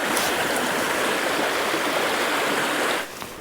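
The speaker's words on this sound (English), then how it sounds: "So the river's coming down, nice and busy today." Busy river rushing down beside Sour Milk Ghyll near Grasmere, a steady, loud, close wash of flowing water that drops away abruptly near the end, with no voices.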